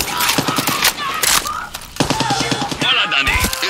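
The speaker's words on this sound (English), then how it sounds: "Is that gunfire? Yes! Yes, it is!" Bursts of automatic gunfire and single shots crackle through a firefight in the video game Far Cry 6, loud and rapid with scattered thuds, over game ambience and speech-like voices.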